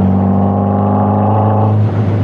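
Healey by Caton sports car engine heard from inside while driving, a loud steady drone with strong harmonic tones that dip and shift near the end as revs change.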